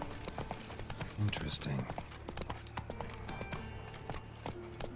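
Roach, a horse in a video game, clip-clopping with steady, close hoofbeats under game music, while someone speaks briefly.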